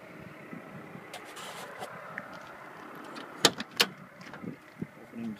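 Car door on a 1972 Chevrolet Malibu with an LS2 engine being opened, with two sharp metallic clicks of the latch mid-way and softer handling knocks around them, close and fairly quiet, no talking.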